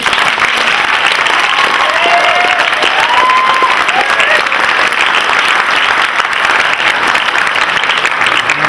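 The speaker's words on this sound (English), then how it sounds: "So one more round of applause for the speakers" Loud, sustained audience applause for the speakers at a college oratorical contest, dense even clapping filling the room from start to finish, with a few voices faintly mixed in.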